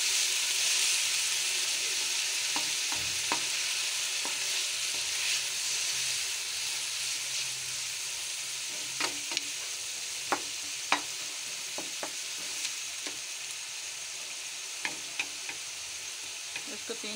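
Grated bottle gourd for halwa frying and being stirred in a pan, a steady soft sizzle with scattered scraping clicks of the spoon against the pan, growing more frequent toward the end; no talking.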